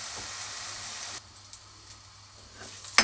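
Onions frying in a pan give a steady, fairly loud sizzle for about a second. The sizzle then drops to a quieter crackle, with a few small pops and a sharp clink at the end.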